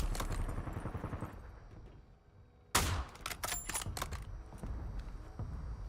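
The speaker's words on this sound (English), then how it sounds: "That's one of the best snipers in a video game I've heard in a while." A sniper rifle fires in Call of Duty Warzone: one loud, sharp crack rings out midway and trails off into a rattling echo, set against quieter in-game background noise.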